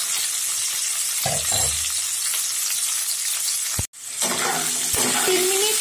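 Potatoes and carrots fry in a pan, salted, over medium-high heat, giving a steady close sizzle with a couple of brief stirring scrapes and a short dropout partway through.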